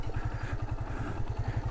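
A motorcycle on a rough mountain road, its engine thumping in a fast, steady pulse close by, with faint clatter over the bumps.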